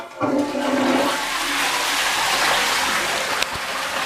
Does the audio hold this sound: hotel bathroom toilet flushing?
yes